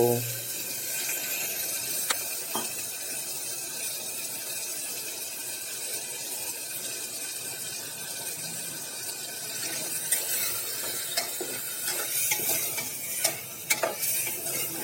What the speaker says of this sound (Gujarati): ચાલો સરસ મજાનું આપણો તેલ ઉપર આવી ગયું છે તો અંદર મસાલા પણ ઉમેરી દઈએ